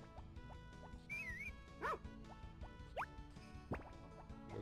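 A pet dog in the Harvest Moon: Back to Nature farming video game gives a few short, small barks amid quiet game music, with soft plinking drip-like tones scattered through the clip.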